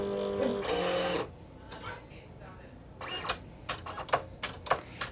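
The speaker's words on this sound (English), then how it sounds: "there's our cutter, and let's hope it actually cuts in the right place this time" A vinyl cutter cutting a Siser EasySubli sublimation transfer for a black shirt: a mechanical whirring run at first, then after a pause a series of quick clicking, tapping bursts from the moving head, close by.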